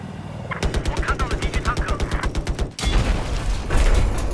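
Rapid machine-gun fire in a tank video game, a steady burst of about twenty evenly spaced shots, then a heavier boom and rumbling blast, loud and close.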